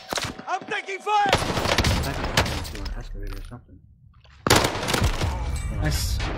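Bursts of gunfire ring out in the video game Warzone, with rapid shots, clinking and a sharp crack after a quiet gap, while players talk over the action.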